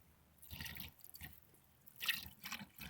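Chicken broth poured from a container into a soup pot for turkey and gnocchi soup on a Big Green Egg grill, heard as several short splashing, gurgling bursts of liquid close by, with no talking.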